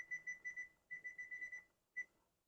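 A kitchen timer beeps in quick bright bursts, two runs of about five rapid tones followed by a single beep, faint and clean against a quiet room.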